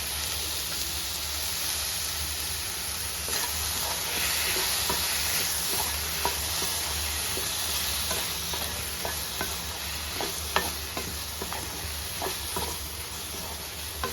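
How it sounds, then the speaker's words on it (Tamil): Tomatoes and onions sauté in a pan for a pea kurma, giving a steady close sizzle with scattered clicks of stirring throughout, and no voices. "தக்காளி, வெங்காயம் வதங்கிடுச்சு."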